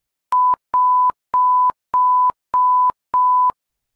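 A French emergency alert tone sounds as six evenly spaced steady beeps, each held about half a second with short gaps between, loud and clean with nothing else underneath.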